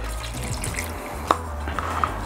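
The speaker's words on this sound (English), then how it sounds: "then we'll add some of the water, which is from the old black paint" Water from old black paint is poured into a paint cup, giving a soft continuous trickle with a few small drips and splashes near the mic.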